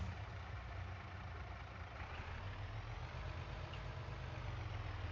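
A truck engine idles in Farming Simulator 25, a steady low rumble holding at an even level for several seconds with no talking over it.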